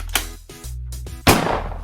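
Loud close gunshots from low-caliber bullets in a comedy skit, two sharp cracks with a broadband burst, a tonal gap between them, no talk.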